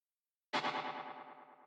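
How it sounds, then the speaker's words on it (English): A single sharp dubstep rim hit with an abrupt attack, processed with EQ and echo, followed by a washy echoing reverb tail that fades over about a second. "there's EQ, echo, and reverb on the rim effects"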